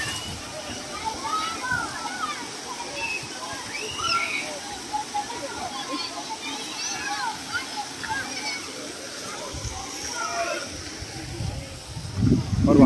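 Water tumbles down continuously from a filled bucket at a waterpark in Belle Mare, Mauritius, a steady splashing wash that sounds fairly distant, with a voice talking over it.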